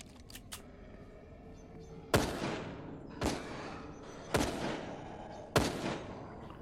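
A rifle fires in the survival game Fear the Night. After a few faint pops, four loud, sharp shots ring out at roughly one-second intervals, each with a short echoing tail.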